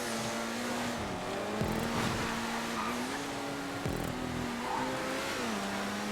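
A car's engine in a GTA 5 race revs and drones steadily, with the pitch rising and dipping as it shifts through corners and two sharp low bumps. The sound is moderately quiet and has no talking.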